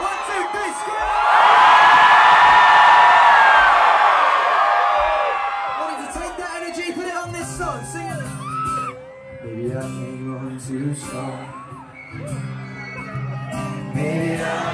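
A large crowd at a concert in Ipswich screams loudly together for a few seconds, then the noise fades into scattered voices and music.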